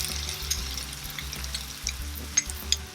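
Onions and chopped garlic sautéing in a pan make a continuous soft sizzle and crackle with a few light stirring scrapes, over a pulsing low background hum, no talking.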